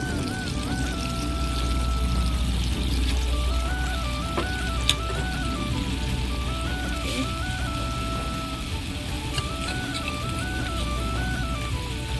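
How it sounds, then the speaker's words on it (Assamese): Hot water poured into a cooking pot of simmering dhekia fern greens and fish, a steady pouring gurgle over a continuous background tone, with no talk. "মই ইয়াত এতিয়া অলপ গৰম পানী দি দিম"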